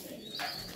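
Pigeons in a dovecote give a short, faint coo with light chirping in the background.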